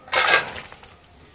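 A pot of potato curry is lifted off the stove with a brief metallic clank and scrape up close, fading into a light knock within about a second.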